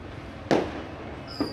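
Two fireworks bursts go off during a New Year's celebration in a residential subdivision: a loud nearby boom, then a softer second pop about a second later, with a faint whistling tone at the end.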